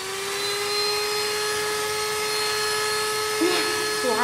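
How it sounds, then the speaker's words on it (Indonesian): An electric cake mixer whirs with a steady, high motor hum and a constant drone that holds throughout, and a voice briefly starts speaking over it near the end. "Nah, suara mixer. Kalau mau bikin kue,"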